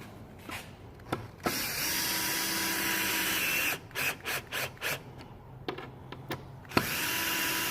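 A power drill whirs in short bursts while installing a snorkel on a Jeep Cherokee XJ 4.0L, a few longer runs followed by a quick series of brief pulses, close by with faint clicks between.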